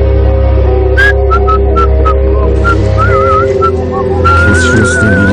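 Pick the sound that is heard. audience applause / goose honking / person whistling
person whistling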